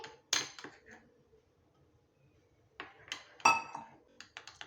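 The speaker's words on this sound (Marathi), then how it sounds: "आणि मसाल्याची छान अशी पेस्ट कराय करून घ्यायची आहे" A spoon mixes red chilli powder, garam masala and spice powders with water into a paste. Two short bursts of clinking and scraping sound against a quiet background, one near the start and one toward the end.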